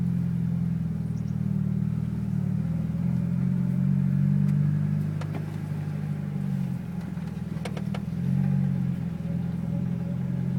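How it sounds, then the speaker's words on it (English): A manual transmission car pulls away and accelerates in first gear, its engine droning loud and steady with a low hum that rises and swells in waves; no one talks over it. "And then press on the gas."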